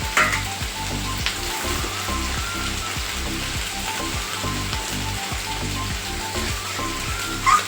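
Ground poppy seed and cashew paste sizzles in a pan for a vegetarian cauliflower and potato curry. A dense, even crackle runs continuously and close, with a faint low rhythmic rumble underneath.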